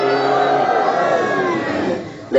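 Crowd at a religious gathering chanting a slogan back in unison, a loud sustained mass of voices that fades near the end.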